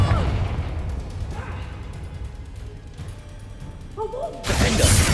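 A Confringo blasting spell in a Harry Potter video game ends a stretch of clattering combat noise with a loud, abrupt blast close by.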